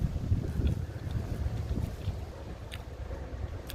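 Wind buffets the microphone with steady low rumbling and gusty thumps, continuous throughout.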